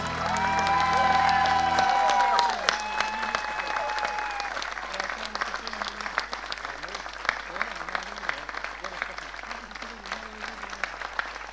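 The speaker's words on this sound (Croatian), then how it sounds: "Najveći aplauz." Applause rolls through a crowd at a political party's final convention, steady clapping filling the hall while a loudspeaker voice talks over it from the start.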